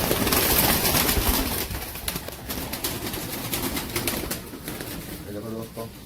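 Pigeons of Teddy and Salar breeds cooing close by in a loft, soft repeated throaty coos over a steady background, with someone speaking in Hindi partway through.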